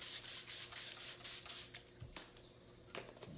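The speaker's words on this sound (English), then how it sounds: "I like spraying the top too, just so it has that moisture on there" A fast series of misting sprays over an emersed plant setup, about eight rapid hissy pumps in a row, close up, followed by a few soft handling clicks and rustles.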